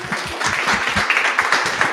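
An audience at a public panel event applauds, a dense burst of many hands clapping at close range that continues steadily for a couple of seconds.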